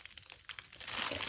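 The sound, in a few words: wrapping items while packing a shipping order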